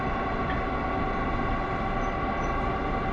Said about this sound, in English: I like this train.